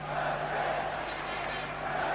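A massive crowd at a 1989 ice hockey world championship game between Canada and Sweden roars in a steady, dense, loud wash of voices that holds without a break.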